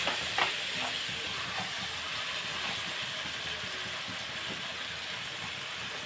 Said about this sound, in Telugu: ఇప్పుడు మనం కుమ్మడికాయ ముక్కలు వేసేసుకుందాం